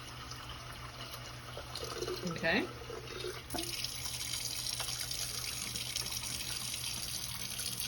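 Water pours from a tap to fill a Chefman electric kettle, a faint trickling gush starting partway through and running steadily to the end, with a brief spoken word at the beginning.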